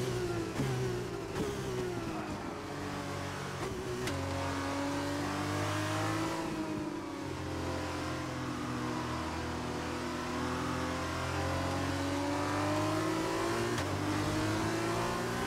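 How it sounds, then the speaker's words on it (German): A Formula 1 car in F1 2021 sliding sideways as it powers out of a slow corner in the wet at Silverstone, its engine howling steadily up through the gears, loud and close, with no voices. "Auto kommt extrem quer beim Rausbeschleunigen mit leichten Kurveneinschlag."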